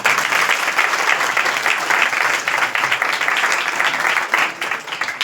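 An audience at a Christian church gathering bursts into sustained, dense applause, a steady wash of many hands clapping that stays loud and even throughout.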